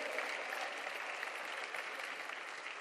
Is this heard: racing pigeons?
no